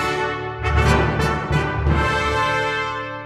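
A dense, rich orchestral passage rendered with a contemporary sample library, with several swelling accents over sustained layered tones that ring on at a steady level.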